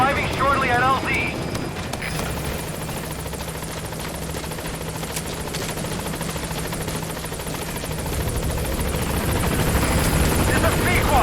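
The Pequod helicopter in Metal Gear Solid V approaches a landing zone with a loud, continuous rotor roar and whine that swells toward the end. A brief radio-style voice sounds at the start.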